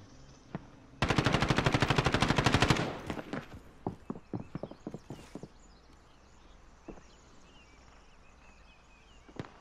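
Video game gunfire: a rapid automatic burst of about two seconds, followed by scattered single shots and clicks that trail off into quieter background noise.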